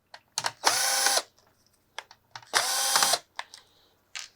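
A power drill backs screws out of a Samsung The Frame TV's power supply board in the One Connect box, two loud whirring bursts of about half a second each, separated by small clicks and handling taps.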